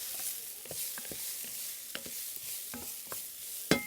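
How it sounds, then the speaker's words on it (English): A spoon stirring vegetables, dry basil, oregano, salt and pepper in a soup pot, making a soft sizzle with several light scrapes and taps and a sharper knock near the end. "give this a little bit of a stir"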